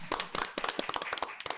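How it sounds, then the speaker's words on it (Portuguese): A small audience claps in a brief, quiet patter of scattered hand claps, welcoming Bernardo Franco, head coach of Cuiabá, to a radio studio show. "Palmas para Bernardo Franco!"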